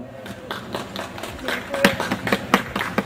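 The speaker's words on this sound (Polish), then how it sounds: "Brawa." Clapping at an author meeting for Luiza Dobrzyńska's book on Bookworm Day, individual claps building from sparse to denser over a few seconds, with a voice faintly underneath.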